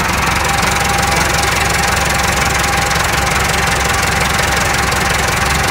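A Massey Ferguson 3060 tractor's four-cylinder engine runs steadily up close, a loud, continuous knocking drone with no pauses.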